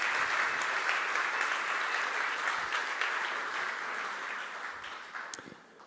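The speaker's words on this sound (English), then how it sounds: "Oliver, round of applause, please." Conference audience at SmashingConf Freiburg breaking into sustained applause, a dense wash of many hands clapping at steady loudness before thinning out near the end.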